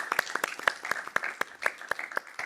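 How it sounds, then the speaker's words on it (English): An audience at a science talk event claps briefly, a brisk patter of individual hand claps at moderate distance, fairly quiet and with no talk over it. "round of applause"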